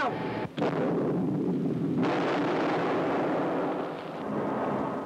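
A tank gun fires during a British Army troop advance, one heavy, sustained outdoor boom that rolls on for several seconds with a broad, rumbling roar and no voices.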